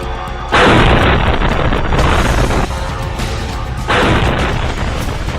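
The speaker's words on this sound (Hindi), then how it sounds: "ज़ेलेंस्की का ड्रोन रूस के सारातोव शहर में पहुंचा और फिर इस रिहायशी बिल्डिंग से जा टकराया। इस बड़े धमाके ने मॉस्को तक रूस को हिला दिया था।" Drone strike on a residential building in Saratov, Russia: two loud booming blasts about three seconds apart, each a sudden heavy roar that lingers, with no speech.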